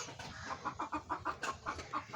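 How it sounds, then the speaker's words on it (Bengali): A hen in a chicken coop, looking for a spot to lay an egg, clucks in a steady rhythmic run of about nine soft clucks, faint and alone. "আর পিছনে আমার ওই মুরগিটা ডিম পারবে"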